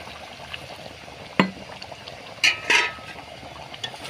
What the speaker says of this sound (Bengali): ফুটন্ত গরম জল আমি এর মধ্যে দিয়ে দিচ্ছি